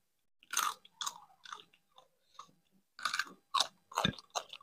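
Close, crisp chewing and biting of spicy crab masala, in separate bursts with short pauses between mouthfuls, alongside egg curry, stir-fried okra and dal with rice.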